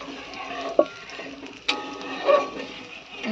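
Spices tempering in hot oil in a pan for a Bengali vegetarian poppy-seed dish, a soft steady sizzle broken by a few sharp utensil clicks and scrapes from stirring, fairly close, with no talking.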